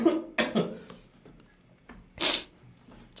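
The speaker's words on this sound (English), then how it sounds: "Or I'll just cough." A person coughs indoors while sketching, giving a few short, close bursts: a quick cluster near the start and another harsh one shortly after a quiet pause.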